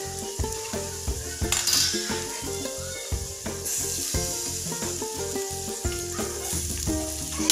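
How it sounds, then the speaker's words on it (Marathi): Tomatoes tipped into a hot pan of sizzling tempering for Khandesh-style khichadi, with a steady loud sizzle, a brief louder burst as they go in, and clinks of a spoon against the pan over a pulsing background hum. "फोडणी व्यवस्थित भाजली गेलेली आहे। आता यात आपण टोमॅटो ॲड करूया"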